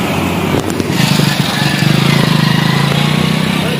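A motorcycle ridden through a cold winter night gives a steady, loud, close engine drone that holds an even low throb throughout.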